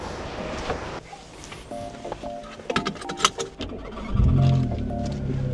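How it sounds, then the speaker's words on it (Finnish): A combustion-engine car, tested on its final drive, starts on the first try. Clicks and a brief whir come before the engine catches and settles into a loud, steady idle. "Hyvin lähtee kyllä käyntiin."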